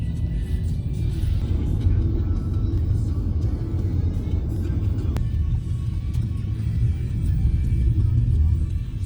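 A low, steady engine rumble fills the cabin during a car ride, continuous and even throughout, with one brief click midway and no clear talk.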